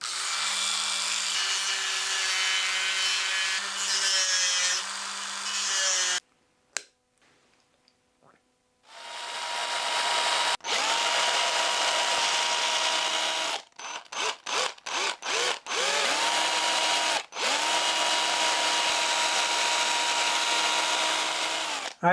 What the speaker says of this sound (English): For the tie-on eye, I'm just going to drill straight in.